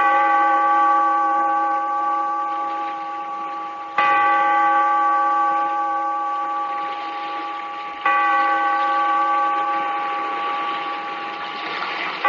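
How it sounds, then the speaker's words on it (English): A bell tolls three times, strikes evenly spaced about four seconds apart, each loud, ringing stroke sustaining and slowly fading into the next, with no talk. "Bellkeeper, toll the bell, so that all may know we are gathered again"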